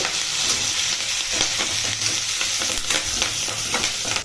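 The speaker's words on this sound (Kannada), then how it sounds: "ಮತ್ತು ಕರಿಬೇವು ಬೆಳ್ಳುಳ್ಳಿ ಇದು ಸ್ವಲ್ಪ ಫ್ರೈ ಆಗಲಿ" Green chilies, curry leaves and garlic fry in hot oil with a loud, continuous hissing sizzle, close up, while a utensil stirs and scrapes through it at an uneven pace.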